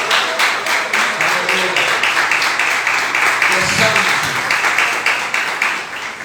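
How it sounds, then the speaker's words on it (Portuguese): A church congregation applauds during a Sunday morning worship service, steady dense clapping filling the room throughout, with a brief low rumble midway and no distinct talk over it. "Dê a salva de palmas para Deus nessa manhã."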